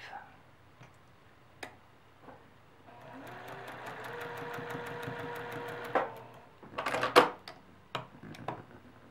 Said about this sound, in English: right sides together again, and we're going to stitch between F2 and F5